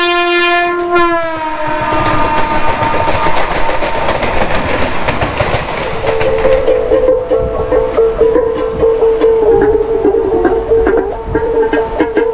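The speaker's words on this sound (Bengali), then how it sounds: "ট্রেনের স্পিড দেখুন একবার" A passenger train traveling at speed sounds a loud horn blast at the start, then rushes by with continuous rumble and rhythmic clickety-clack of the wheels on the rails, close and steady throughout.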